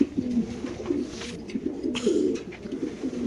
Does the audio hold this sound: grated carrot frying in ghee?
no